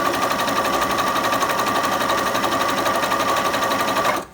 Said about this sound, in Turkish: Şimdi makine bize 7 milim bir zigzag